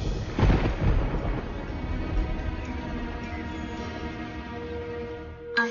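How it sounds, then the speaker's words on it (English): Low rolling thunder from an approaching storm, a heavy rumble that swells near the start and then trails off into a long, steady, distant growl. "she'll probably get stuck in the storm that's coming in."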